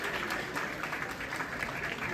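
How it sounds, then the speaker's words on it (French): A seated audience at an awards gala claps in a dense, even wash that stays fairly soft and distant throughout, with no pause in it. "sous vos applaudissements"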